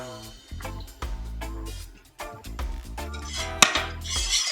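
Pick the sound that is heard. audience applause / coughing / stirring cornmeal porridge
stirring cornmeal porridge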